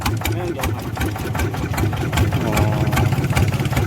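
A diesel walk-behind farm tractor on a Krathing Daeng-style frame runs close by with a rapid, even knocking chug, steady throughout, as people talk over it.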